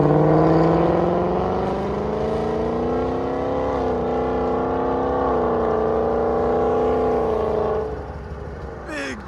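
A 2019 Ford Mustang GT 5.0L V8 with H-pipe and Borla S-Type exhaust idling in track mode with valves open, a loud, close, deep burbling drone that rises slightly in pitch, then drops off near the end.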